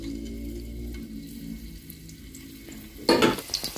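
Garlic frying in olive oil in a home kitchen pan, a steady low sizzle that swells into a louder burst of crackling and stirring near the end, with no talking.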